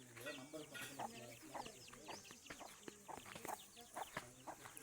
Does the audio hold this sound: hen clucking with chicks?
yes